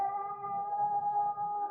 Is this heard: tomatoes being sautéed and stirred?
no